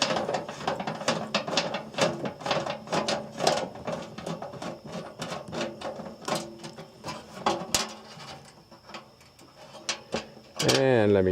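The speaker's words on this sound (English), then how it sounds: "And let me just screw him right back down in there." A 5/16 socket ratchet tightens a screw on the evaporator fan of a house A/C unit, giving rapid clicking bursts of the pawl up close, repeated in quick runs with brief pauses and some speech woven between.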